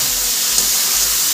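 Ingredients frying in a pan give a steady, close hiss of sizzling that runs evenly throughout, with no voices.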